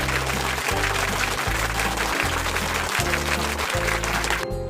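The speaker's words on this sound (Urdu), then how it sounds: "اس جواب پہ جو ہے نا ہو جائے تالیاں" An audience breaks into applause, dense clapping that stays loud and steady for several seconds before cutting off abruptly, with a rhythmic music-like pulse underneath.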